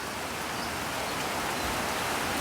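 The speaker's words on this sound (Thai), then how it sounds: "ฝนตกแบบนี้นะครับ" Rain falling on a durian plantation in Mukdahan, Thailand, after a storm, a soft steady hiss of drops on leaves and ground, even and continuous at moderate distance with no talk.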